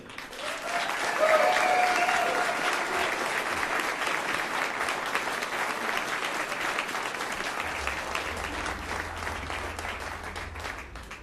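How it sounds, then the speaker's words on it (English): Sustained audience applause at a television broadcasting industry mixer greets a speaker, steady clapping from a sizable crowd that swells early, then holds at a moderate level before slowly tapering. "So please, with a loud applause"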